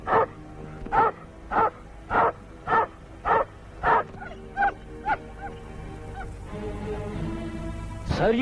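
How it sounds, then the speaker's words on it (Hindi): A dog barks in a Hindi horror film scene, about nine sharp, evenly spaced barks close by, which then give way to a low rumble and end with one final bark. "सर, ये कुत्ते हमेशा आप ही को देखकर क्यों भौंकते हैं?"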